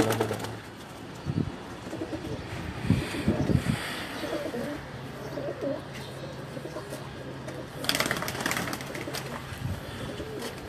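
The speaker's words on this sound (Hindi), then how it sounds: "फिरोजपुरी जोड़ा ये भाई के फिरोजपुरी बांके कबूतर हैं।" Firozpuri pigeons coo softly and beat their wings in short bursts nearby, while people talk over them throughout.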